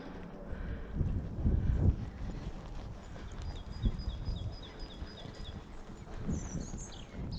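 Horse galloping over an obstacle course outdoors, an uneven thudding stride with muffled hoofbeats under wind noise on the microphone, moderately close.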